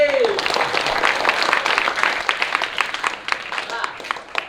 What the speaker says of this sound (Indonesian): Beri tepuk tangan yang meriah sekali lagi.